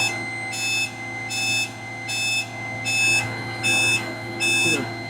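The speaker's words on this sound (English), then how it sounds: "So pardon me for the beeping." A truck's beeping alarm sounds in regular, evenly spaced pulses, about one per second, over a steady engine drone at a concrete plant in Mississauga.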